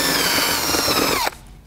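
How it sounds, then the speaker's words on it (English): A power drill bores a hole through a plastic headlight housing during a bi-xenon projector retrofit, a loud steady whir that runs continuously before stopping abruptly, leaving near silence. "We're gonna drill our hole here."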